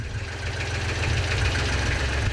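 A snow-clearing tractor's diesel engine idles with a steady, knocking rumble and constant vibration, close and fairly loud with no talking.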